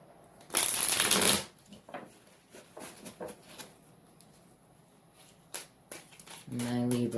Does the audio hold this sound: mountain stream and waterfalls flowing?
no